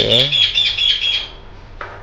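A frightened budgerigar gives a short burst of bright, high chirping up close. The chirping fades out, and then comes one brief sharp chirp.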